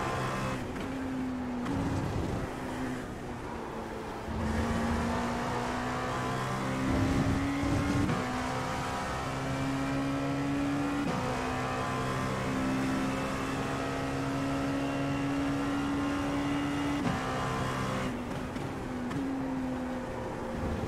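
Simulated Dallara P217 prototype race car engines at Silverstone in iRacing, a steady loud drone with rising and falling pitch as cars battle for position, continuous throughout with no talk.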